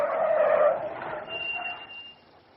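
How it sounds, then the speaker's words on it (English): A car skids to a halt on a road, a loud tire squeal that sweeps and fades over about two seconds, alone with no voices. "Almost immediately, a car came to a halt."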